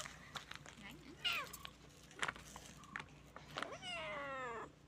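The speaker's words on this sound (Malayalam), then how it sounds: "ഇവിടെ പൂച്ച കുഞ്ഞുങ്ങളെ കാണിച്ചു തരാം" Young kittens mew in a run of high, thin cries, one after another, with a longer wavering meow at the end, close by while people talk softly nearby.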